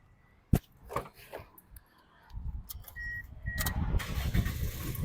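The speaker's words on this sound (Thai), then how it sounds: "เดี๋ยวเรามาดูในส่วนของห้องเครื่องและฟังเสียงเครื่องยนต์กันนะครับ" A 2005 Toyota Vios engine cranks and catches after some clicks and shuffling, then settles into a low, steady idle that continues to the end.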